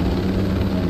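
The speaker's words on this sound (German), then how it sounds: "Hast du einen Hubschrauber geholt?" Helicopter in the video game Ghost Recon Breakpoint, a loud continuous rotor and engine drone filling the moment, steady with no other sounds.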